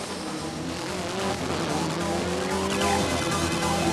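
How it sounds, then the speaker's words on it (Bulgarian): Ford Escort rally car on a stage at Rally Albena, Bulgaria, 1998: a loud, sustained engine roar rising in pitch as it accelerates, with tire noise and a faint commentator's voice underneath. "Автомобила е Ford Escort."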